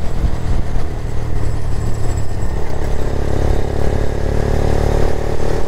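A Daelim Daystar 125 motorcycle engine runs close and loud with its muffler popping and crackling, a continuous throbbing rumble peppered with irregular sharp pops as the throttle eases.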